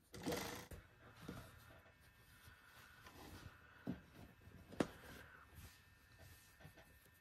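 A sewing machine stitching a trouser seam down to the hem, its soft motor whir running quietly with a few louder clicks and thumps of the needle and fabric along the way, no voices.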